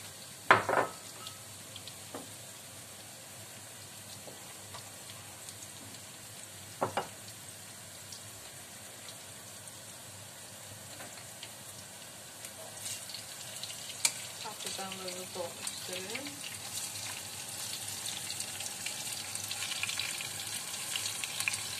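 Imam bayıldı cooks in a pan with a bowl of water just added, giving a steady low sizzle and simmer with a few clinks of utensils and a brief voice, the bubbling growing a little louder toward the end.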